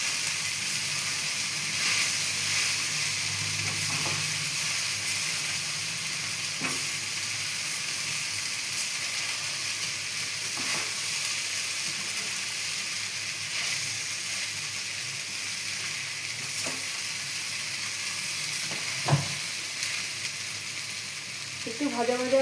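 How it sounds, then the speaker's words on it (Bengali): Sabudana and potato fry gently in a pan, making a soft, steady sizzle with a few sharp scrapes of a spoon stirring, fairly quiet and without talk. "একটু ভাজা ভাজা হোক।"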